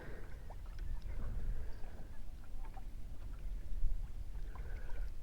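A country boat ferries people and a motorbike across the Kapotaksha river, with faint water lapping and a low rumbling drone against soft outdoor background noise.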